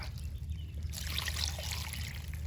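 Water is poured into a container to soak freshly planted sweet potato slips set in wood chips outdoors. It comes through as a soft, close splashing trickle that grows stronger after the first second, over low background rumble.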